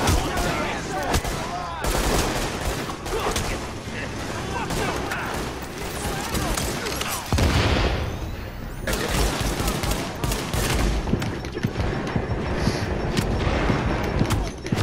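Sustained gunfire in the video game The Division, loud overlapping shots and bursts continuing throughout, with voices talking under the fire.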